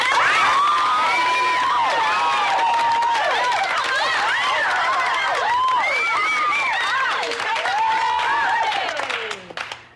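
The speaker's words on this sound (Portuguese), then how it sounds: "Salva de palmas pra você," Loud crowd applause and cheering with whistles and shouts rising over steady clapping, sustained throughout before fading sharply at the end.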